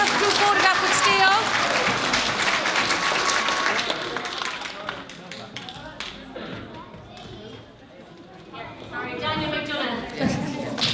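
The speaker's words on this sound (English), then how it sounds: "So will you give a round of applause to all our nominees" Applause from the crowd at an awards ceremony for the nominees, scattered and fairly close, tapering over the first seconds while several people talk and cheer over it, with a brief swell again toward the end.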